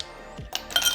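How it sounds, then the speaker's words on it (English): A couple of ice cubes clink into glasses of dragonfruit berry smoothie, two brief bright clatters close by in a quiet kitchen. "Let's go with a couple ice cubes"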